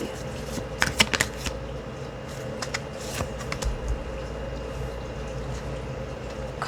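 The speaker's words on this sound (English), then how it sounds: "we'll pull some oracle cards and then I'll pull some tarot after that" Oracle and tarot cards are shuffled by hand in bursts of crisp riffling and slaps, close up over a steady low background hum.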